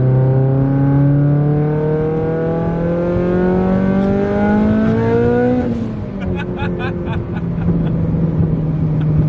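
A loud Mitsubishi Lancer Evolution VIII with a Tomei Expreme titanium exhaust revs up steadily, its pitch climbing for several seconds before dropping off into a rough, sputtering exhaust rumble with crackles.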